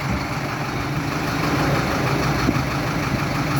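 A Solis 75 tractor of 75 horsepower, with a modern fuel system, idles steadily up close, a continuous low diesel rumble with faint knocking and no voices.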